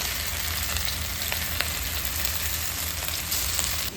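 Small pieces of chicken fry in oil for street-style noodles, a dense, loud, continuous sizzle with scattered crackles close by.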